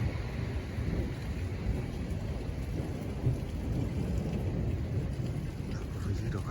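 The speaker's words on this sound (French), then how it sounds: "Vous voyez l'orage." A brief summer thunderstorm in France, with heavy rain pouring steadily and deep thunder rumbling underneath, loud and continuous with no voices.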